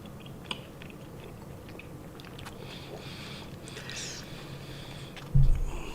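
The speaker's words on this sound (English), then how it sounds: "Also, I apologize, my chewing sounds." Sushi being chewed during a casual eating session, with soft, continuous mouth sounds close to the microphone and a brief louder bump near the end, over a low background hum.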